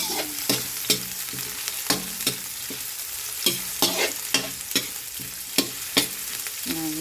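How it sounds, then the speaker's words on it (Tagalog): Garlic and onion sauté in hot oil for Ilocano pinakbet, a continuous sizzle punctuated by regular scraping clacks of a spatula stirring against the pan, close and fairly loud. "Yan, medyo brown na po yung bawang, tapos yung sibuyas."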